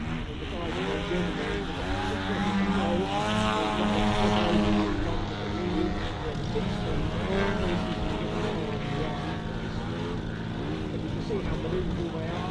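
Small propeller model aircraft flying at Weston Park Model Air Show, their engines droning and shifting pitch as they maneuver, heard under commentary from an announcer.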